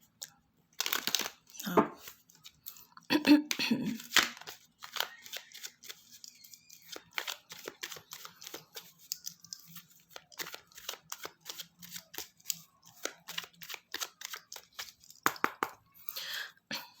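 Tarot cards being shuffled by hand, a long run of soft riffling slaps and papery flutters in quick irregular bursts, close and fairly quiet, with a short spoken word near the start.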